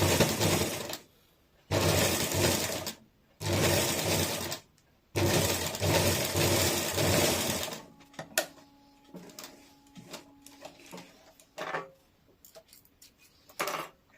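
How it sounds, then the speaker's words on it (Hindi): A sewing machine stitches a thin folded strip for a high-neck blouse, running in four loud bursts with short pauses between, then giving way to quieter clicks and handling sounds. "अब पतला वाला पट्टी का भी इस प्रकार से फोल्ड करके सिलाई कर लेंगे"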